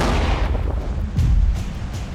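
An avalanche control gun fires explosives into the snowpack, a single heavy boom with a deep rumbling roll-off that fades over a couple of seconds, heard from nearby outdoors.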